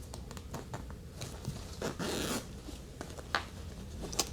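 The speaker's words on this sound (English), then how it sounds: "open your zipper one more time" An invisible zipper on a fabric pillow cover is pulled open halfway, giving a short, faint rasping burst amid quiet handling noises and light taps.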